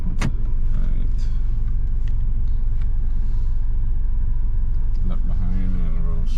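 A car reverses slowly during a driving lesson, its engine a steady low rumble running throughout, with people talking over it.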